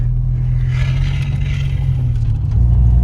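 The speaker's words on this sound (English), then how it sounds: "It is picking up speed really fast on the downhill." A turbocharged Nissan Micra with a worn release bearing accelerating downhill, its engine a loud, steady, close droning hum that swells slightly toward the end.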